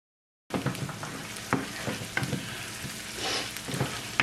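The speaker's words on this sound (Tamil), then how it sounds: "இப்போ 1 நிமிஷத்துக்கு பிறகு இந்த வெங்காயத்தோடு நான் இந்த 5 பச்சை மிளகா சேர்க்கிறேன்." Chopped green chillies and onions sizzle steadily in a pan, with a few soft clinks and stirring scrapes breaking through the even hiss.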